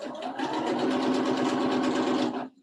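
Sewing machine stitching through quilt layers in a steady, rapid mechanical whir with fast rhythmic needle pulses, close and even, stopping abruptly at the end.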